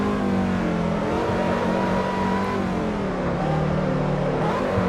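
A Lotus 211 in the Assetto Corsa racing game holds a loud, steady high engine drone throughout, its pitch wavering slightly as the small lightweight car is driven hard, with no other sound.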